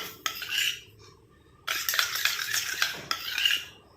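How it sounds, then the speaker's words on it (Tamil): A spoon stirs a homemade hair dye mixture in a bowl. It gives close, scraping clinks in two bursts separated by a short pause, with no talking. "இப்போ நல்லா மிக்ஸ் பண்ணியாச்சு."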